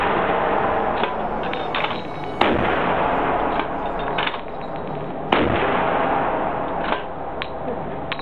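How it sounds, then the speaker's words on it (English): Heavy NTW-20 anti-materiel rifle shots at a firing range, a few sharp loud reports spaced seconds apart, each with a brief ringing tail over a dense rumbling background. "Here's footage of the NTW-20 at the firing range."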